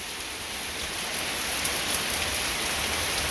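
A downpour from a pop-up storm hisses steadily and thickly, close and unbroken, with scattered drops pattering on surfaces and no one speaking.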